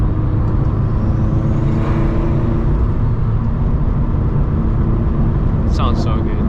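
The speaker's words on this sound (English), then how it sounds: "man, I love the turbo noises" A turbocharged Subaru BRZ roars steadily while driving, with a dense engine and road drone, a rising turbo whine and a brief high whoosh near the end, heard from inside the car.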